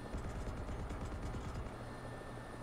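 A Havoc attack helicopter in War Thunder drones steadily close up, a continuous rotor and engine hum with a fluttering beat, fairly quiet and alone with no talk.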